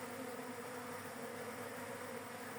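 A steady, continuous drone of bees buzzing, soft and fairly distant, with no voices.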